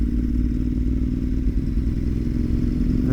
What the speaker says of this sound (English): lots of bikes